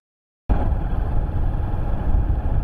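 A motorcycle engine, recently in need of engine work after seizing, runs steadily and close by as the bike is ridden slowly, a continuous low rumble starting abruptly after a brief silence.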